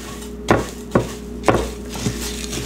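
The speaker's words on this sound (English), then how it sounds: "You'll just stir it around until it gets nice and toasted." A spoon stirring granola oats in a pan as they toast, four distinct knocking scrapes spaced about half a second apart over a low steady background hum, close and fairly loud, no voices.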